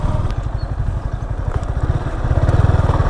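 A motorcycle engine idles and putters steadily at close range while the bike is being parked, with a low, even chugging rhythm and no talk over it.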